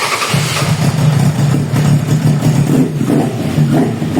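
A tuned Suzuki Bandit 1200 motorcycle engine runs loud and close, a rough steady rumble with a slight rise in revs partway through.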